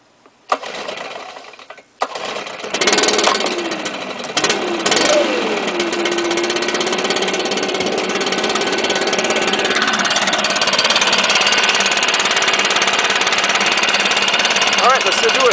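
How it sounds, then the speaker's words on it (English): A BR550 backpack blower engine cold-starts with a few pull-cord tugs and sputters, then catches and settles into a loud, steady running drone that holds close and constant to the end. "BR550. Just used it around 6 hours ago, so it's a cold start."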